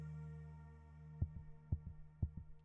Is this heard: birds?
no